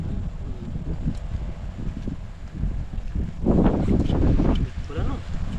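Wind blowing by a river, loud and close as steady rumbling gusts buffeting the microphone, rising midway, with people talking underneath.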